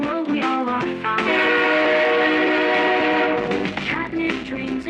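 A cartoon subway train sets off with a loud, steady rumble and a sustained horn-like tone, rising and holding for a few seconds before tapering, heard close and full.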